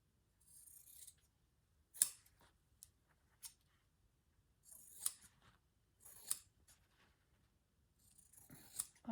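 Scissors trim quilt fabric, a series of crisp, close snips coming in short separate bursts with quiet pauses between them.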